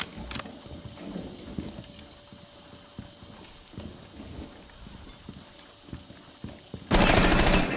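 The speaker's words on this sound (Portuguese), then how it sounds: "Nossa, que tiro" Scattered sharp gunshot cracks in Rainbow Six Siege over steady game background noise, then a loud sustained burst of rapid fire near the end.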